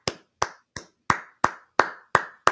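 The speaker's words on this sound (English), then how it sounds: "slow claps in the chat for crucifildo" Eight slow, evenly spaced hand claps, sharp and close, ringing out alone with short decays between each clap.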